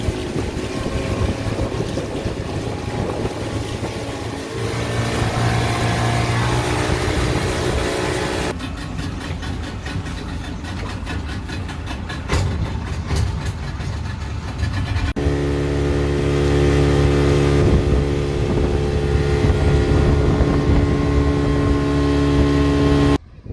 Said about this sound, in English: this is the ferry that goes to some of the islands